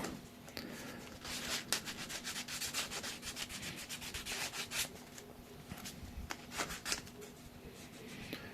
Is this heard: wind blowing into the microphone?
no